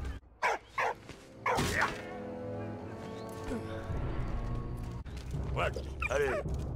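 A dog in the World War I video game Valiant Hearts barks a few sharp times, then again later, with someone talking over the game sound between and under the barks.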